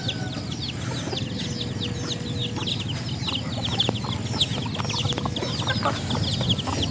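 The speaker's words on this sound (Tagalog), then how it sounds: "May 4 na sisiw dito." Chickens with chicks on a farm cluck and cheep continuously, with high peeping calls scattered throughout at moderate distance over a steady background.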